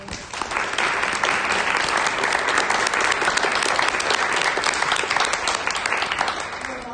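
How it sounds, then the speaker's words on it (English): An audience applauds after a workshop talk on practicing civility in political conversations, sustained, dense clapping from a room full of people that carries on evenly for several seconds before easing slightly at the end. "I really want to just extend a round of applause and thank you so much for all of this."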